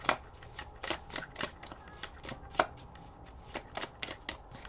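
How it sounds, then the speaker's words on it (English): Oracle cards being shuffled by hand, a run of quick papery riffles and taps repeating in uneven bursts, close and fairly quiet. "let's shuffle this and find out what these cards want to say to us"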